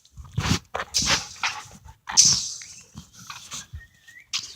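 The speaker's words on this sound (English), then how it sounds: "Random dog in your house." A stray dog in a house gives a run of short whimpering, huffing vocal bursts at close range, spaced irregularly with brief pauses between them.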